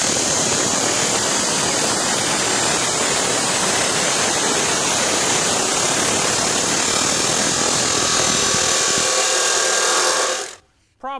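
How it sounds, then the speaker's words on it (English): An abrasive chop saw grinds through stainless steel exhaust tubing with a loud, steady, harsh roar that holds for about ten seconds, then cuts off abruptly as the blade stops and spins down. "this is the standard everyday abrasive chop saw is what I'm going to show you right now."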